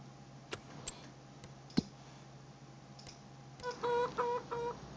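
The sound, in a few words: chickens clucking on a farm in Farming Simulator 25 video game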